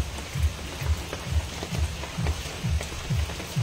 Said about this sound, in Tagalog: kahit na umuulan, tapos malakas yung hangin